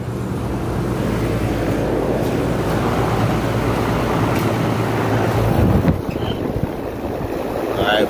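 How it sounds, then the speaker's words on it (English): Fans of a Lennox rooftop HVAC unit running steadily while it cools, a continuous broadband whoosh and low hum holding at a constant level throughout, with no talk. "Alright, both fans are running. This unit is cooling."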